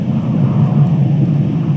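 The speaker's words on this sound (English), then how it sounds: "You can see the storm approaching" Thunder from an approaching storm in the video game Firewatch rumbles as a steady, heavy low roll, loud and continuous throughout with no speech.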